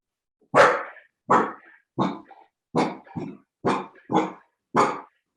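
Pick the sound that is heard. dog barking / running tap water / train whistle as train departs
dog barking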